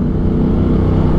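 Steady engine drone of a Ducati Multistrada motorcycle riding on the road nearby, a continuous low rumble with a droning hum and no gaps, and no talk.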